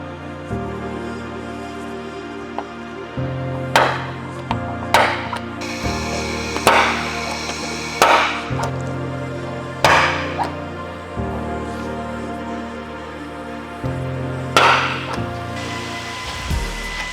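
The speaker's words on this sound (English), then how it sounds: "we can take our center punch and we can center punch the center of all of the holes" Sharp metallic hammer strikes on a center punch marking holes in a Toyota 4Runner's body, about ten spaced blows landing one at a time over a low steady hum.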